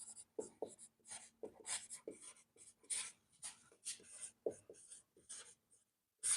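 Chalk or marker writing on a board during a Class 10 maths lesson on real numbers, a series of quiet scratchy strokes in short irregular bursts with brief pauses, close and alone.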